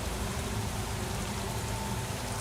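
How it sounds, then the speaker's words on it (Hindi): Blood rain falling in a video game, a dense, steady hiss of rain on surfaces filling the whole stretch at even loudness, with no other sounds standing out. "खून की बरसात होने लग गई है।"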